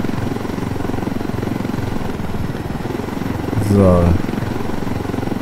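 Helicopter in the video game Ghost Recon Wildlands, a loud, steady rotor thump throughout that swells briefly, with someone saying a word over it.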